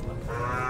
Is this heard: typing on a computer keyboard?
no